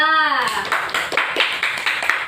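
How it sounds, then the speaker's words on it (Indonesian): Classroom applause for a student group, a dense burst of many hands clapping at close range, starting after a brief voiced sound and continuing steadily to the end. "Yuk beri aplaus untuk kelompok 2."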